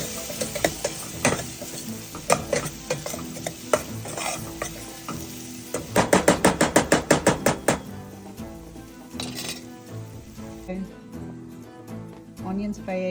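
Onions frying in a pan for an Indian broad bean and ginger curry, a steady sizzle under repeated scraping and clattering of a spatula against the pan, with a fast burst of rhythmic taps midway; a voice speaks over it.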